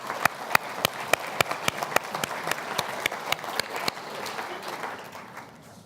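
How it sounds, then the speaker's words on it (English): Applause at the Muslim News Awards for Excellence 2018 gala: one set of sharp, evenly spaced claps stands out over a softer crowd, and the sound fades toward the end. "Let's give him a round of applause, please."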